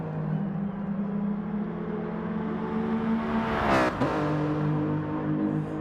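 Race car engine in Gran Turismo Sport at Monza, a steady high droning whine that swells as a car closes in and sweeps past with a sharp pitch drop, then keeps droning.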